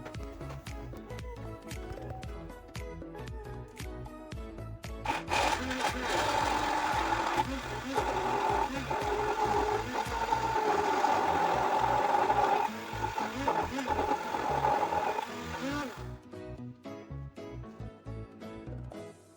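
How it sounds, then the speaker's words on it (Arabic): An electric mixer whirs steadily for about ten seconds as it blends fresh cream with gelatin and red colouring, with clattering kitchen noise before and after. "وكنخلطوه بهذاك الميكسور"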